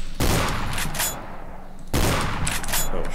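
Two dense bursts of rapid gunfire from a Garry's Mod video game match on a space map, each volley loud and sustained with a brief pause between them and no talk over the shots.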